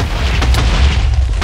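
A TNT door cannon blowing up in Minecraft: a loud, dense run of booming blasts with heavy low rumble filling the whole stretch, no voices over it.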